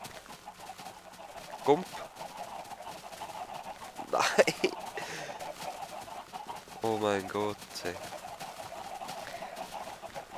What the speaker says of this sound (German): ach, die Hühner